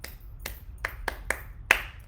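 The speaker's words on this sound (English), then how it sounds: "I am clapping for you." Six sharp hand claps spaced unevenly over about two seconds, crisp and close, each a short bright crack over a quiet low background, the last one loudest.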